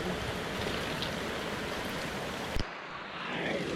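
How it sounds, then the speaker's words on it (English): Rainwater pours steadily off a boat like a small waterfall during a downpour, a continuous broadband rushing wash that drops sharply for a moment near the end before resuming. "I don't know if you can see, but over there's a darn waterfall."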